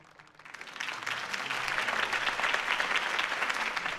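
A crowd applauds a campaign speech in the Batman Telltale video game, starting softly and swelling within a second into loud, sustained, dense clapping that holds steady to the end.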